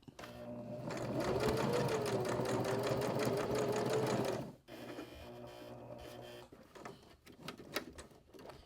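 A sewing machine runs a fast, steady stitch through bulky fabric at a corner for several seconds, stops abruptly, then gives a few slower, uneven stitches and clicks as the fabric is rotated.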